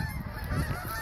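Several geese honk close by in a brief burst of overlapping calls.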